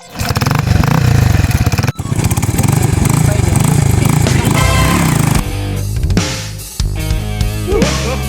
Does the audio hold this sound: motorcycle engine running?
yes